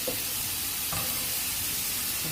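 Ingredients for a seaweed and oyster soup are stir-fried briefly in a pot, giving a close, steady sizzle with a few scraping stirs.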